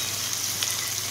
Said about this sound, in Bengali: ফোড়নটা দেওয়া হয়ে গেছে, এবার কুচনো পেঁয়াজগুলো একটু লাল লাল করে